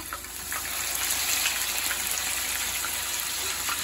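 Seasoned tilapia frying in hot oil, a steady loud sizzle that holds without a break and with no talk over it.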